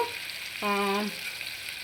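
Tomatoes simmer down to a pulp in a pan for a vegetable biryani, making a soft steady sizzling hiss, briefly joined midway by a short tonal hum.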